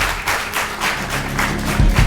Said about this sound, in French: Maximum d'applaudissements pour eux, s'il vous plaît